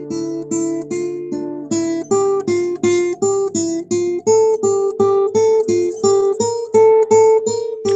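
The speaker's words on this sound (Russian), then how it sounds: "Я сейчас наиграю тему из этого хорала" A Bach chorale theme played alone on a sustained, harmonically rich instrument: a steady melody of distinct notes about every half second, moving gradually upward, clear and close with no talking.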